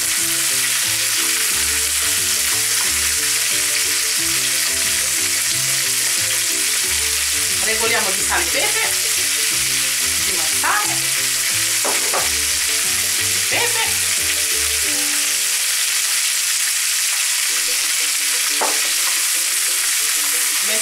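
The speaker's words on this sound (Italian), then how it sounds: "giriamoli leggermente li lasciamo insaporire con l'aglio" Peppers and Swiss chard fry with garlic in a pan for a frittata, a loud, continuous sizzle broken by scraping stirring strokes in the middle part, with the sizzle carrying on steadily to the end.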